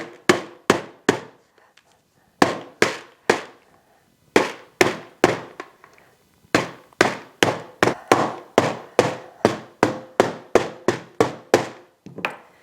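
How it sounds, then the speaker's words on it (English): A rubber mallet pounding an airtight gasketed lid onto a large bucket, dozens of sharp, loud thuds in uneven runs with brief pauses, the pace quickening toward steady rapid blows near the end. "it just has to be hammered in place with the rubber mallet"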